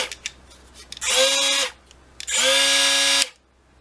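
A Bosch GWS 12V-76 brushless cordless angle grinder spinning freely, heard as two close, loud bursts of high motor whine, each under a second long, with a short quiet gap between them.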